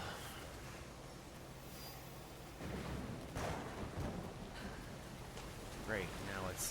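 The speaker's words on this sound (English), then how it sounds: "now it's lightning and rain" Rain and thunder during a storm in Assassin's Creed Shadows: a steady wash of rainfall that thickens partway through, with faint low rumbling and someone talking over it.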